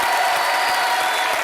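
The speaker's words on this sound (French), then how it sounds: "Applaudissements pour le podium" Sustained applause from a French TV studio audience greeting the top-three podium, a dense, steady wash of many hands clapping at an even level with faint cheering mixed in.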